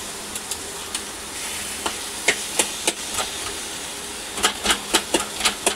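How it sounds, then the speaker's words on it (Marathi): A coconut and jaggery mixture for modak being roasted in a pan, with a soft steady sizzle and irregular sharp scraping taps of a spatula against the pan, louder toward the end. "ह्याला चांगलंसं भाजून घेऊया, म्हणजे हे ना सुकं सुकं होईल, जे पातळ झालेलं आहे ते"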